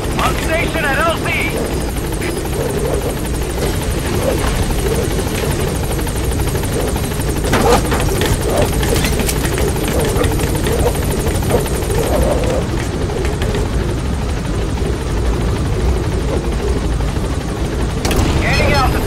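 Pequod's helicopter from the video game Metal Gear Solid V hovers at a landing zone, its rotor roar loud and steady throughout, with voices talking over it.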